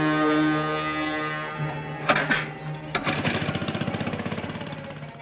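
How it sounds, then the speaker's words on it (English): A compressor on a diving expedition camp starts up, a sustained droning hum that breaks into a rapid, regular chugging beat as the motor catches and settles into a steady run. "Do you mind starting the compressor?"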